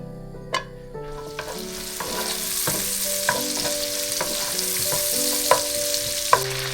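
Salmon fries lightly in a pan with a steady sizzle while it is stirred, giving a few sharp scraping clicks against the pan over the continuous frying hiss, close up and with no talking.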